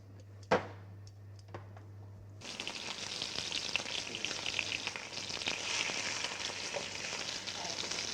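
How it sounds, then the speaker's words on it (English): Oxtail pieces seasoned with salt and black pepper hit hot oil: after a quiet start with a couple of knocks, a loud dense sizzle erupts and keeps crackling steadily close up. "The oxtail pieces are browned in oil."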